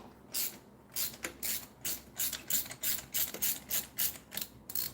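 A ratchet wrench loosens a spark plug with a 14 millimeter, 12-point socket, giving repeated close rapid clicking bursts in a steady back-and-forth rhythm, with no voices.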